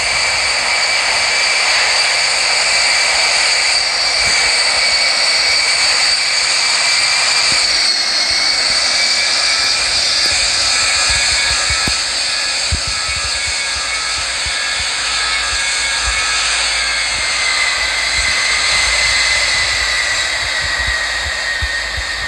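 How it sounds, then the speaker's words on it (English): A Vietnam Airlines Airbus A350 or 787 jet in the flight simulator Infinite Flight takes off from runway 29 left at Hanoi, with a steady loud engine roar and a whining high tone that holds for the whole stretch with no talk. "Vietnam Airlines 1920 is taking off runway 29 left"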